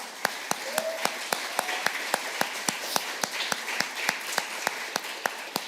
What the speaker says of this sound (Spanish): un aplauso al Señor por sus vidas